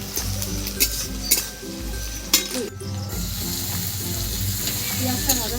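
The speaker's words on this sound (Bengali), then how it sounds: "পেঁয়াজটা ভাজা হয়ে গেছে, টমেটোটা একটু ভেজে নেব।" Onions and tomato fry in a pan with a steady close sizzle. Occasional sharp clinks and scrapes of a utensil against the pan cut through it.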